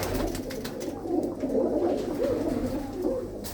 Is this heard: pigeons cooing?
yes